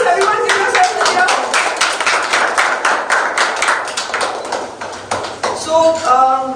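Participants at a UX design workshop clap together in a dense, steady burst of applause that lasts throughout, with some voices cheering near the end.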